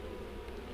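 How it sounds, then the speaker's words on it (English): Honey bees drone in a steady, faint buzz inside an open hive during an inspection, a brief continuous hum with no voices over it. "We've got a lot of bees in here."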